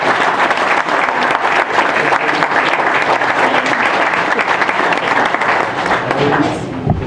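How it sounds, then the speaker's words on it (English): Steady audience applause at a League of Women Voters candidate forum in Fillmore, a dense, even clapping from a roomful of people that keeps going for several seconds and fades slightly at the end. "So how about a round of applause?"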